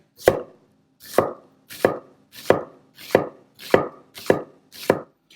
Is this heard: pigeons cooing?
no